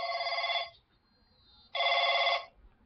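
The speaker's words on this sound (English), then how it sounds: "oh dear, there goes my phone." A telephone rings with two loud electronic trilling bursts separated by a short pause, close and clear in a quiet room.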